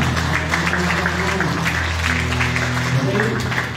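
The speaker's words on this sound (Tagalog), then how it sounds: "Parang bitin na bitin yung palakpak kasi nagawin ka." Church congregation applauding during a sermon, a steady, dense clapping wash that fills the short span, with a voice speaking over it.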